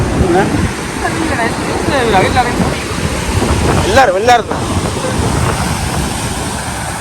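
Sea waves surge and wash ashore at Arugam Bay, a broad steady roar with heavy wind buffeting the microphone, while people talk over it nearby.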